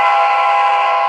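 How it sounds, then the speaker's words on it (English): A train sounds a long, loud, steady horn or whistle as it pulls into a station, holding the tone unbroken and close throughout with no talk. "Oh, the train's coming."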